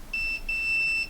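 Multimeter in continuity beep mode during repair of a dead HP Pavilion desktop: two steady high electronic beeps, the first short and the second longer, clear and close with no talk.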